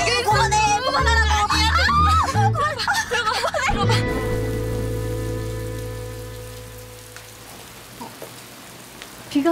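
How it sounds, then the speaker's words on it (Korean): Rain begins to fall, a steady hiss of drops on surfaces that settles in and slowly fades after a busy opening of voices and other sounds. "비가 오기 시작하네요."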